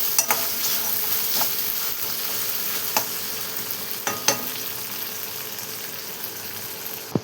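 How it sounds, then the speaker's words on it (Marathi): Soaked moong dal sautés in a hot pan with a steady, even sizzle, broken by a few sharp scrapes and taps as it is stirred. "आणि छान अशी मस्त अशी परतून घेतलेली आहे बघा."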